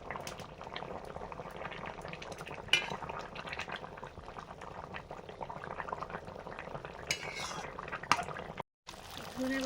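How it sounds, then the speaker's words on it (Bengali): Fish curry broth with chopped tomato and water bubbles at a steady rolling boil in a pan, close and continuous, with brief clinks near the end and a short gap before it resumes. "ঝোল ফুটে গেছে, ভাজা মাছগুলো দিয়ে দিলাম।"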